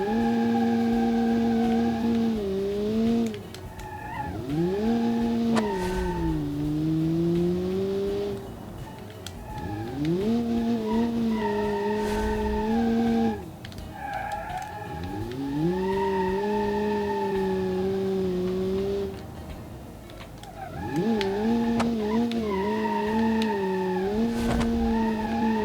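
An S20 R200 Turbo race car in the Automation driving game revs through repeated rising engine pulls and shifts, with tire squeal and skidding in corners, loud and continuous for the whole stretch.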